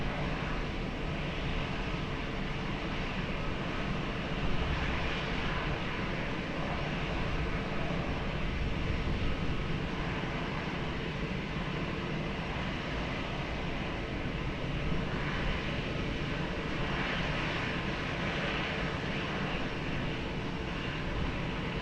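An airplane engine roars steadily near runway 20 at Lisbon Airport, a continuous broad rumble holding at even loudness without talk.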